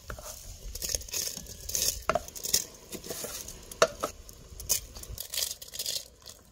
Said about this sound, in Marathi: असं तांदूळ टाकलं की हलवायचं आणि झाकून ठेवायचं.